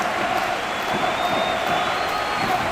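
A dense arena crowd roars and cheers continuously at a wrestling event in Brazil in the video game WWE 2K19, a steady wash of crowd noise without pauses.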